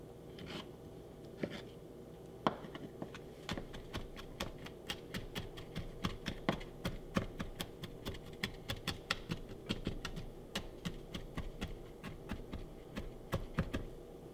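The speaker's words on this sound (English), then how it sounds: "See, you can do that also to cut, chop, chop, chop, chop." A knife chopping two small garlic cloves for a meat seasoning, making quick, irregular, crisp taps close by that continue steadily throughout with no talking.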